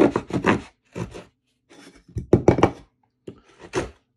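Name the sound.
Swiza D09 pocket knife saw cutting a piece of wood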